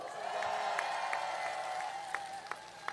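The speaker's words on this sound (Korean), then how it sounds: "격려 박수 부탁드립니다." Crowd applause at a Jeju campaign rally during a presidential election run, steady clapping with light cheering spread over the whole stretch, a few sharper claps standing out near the end, fairly distant and even.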